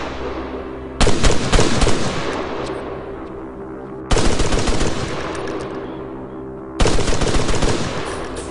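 Three loud, close bursts of sustained automatic rifle fire in the military shooter ArmA 3 at night, each a rapid rattling stream with a long echoing tail fading before the next volley.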